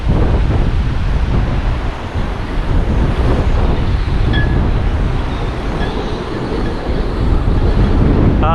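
Strong wind blows across an open shoreline where debris lies scattered, a loud continuous roar and buffeting on the microphone with no talking.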